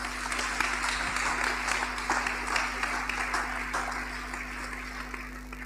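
Church congregation applauding to acclaim the Lord during a sermon on marriage, a continuous dense clatter of many hands clapping at moderate distance over a low electrical hum, tapering slightly toward the end.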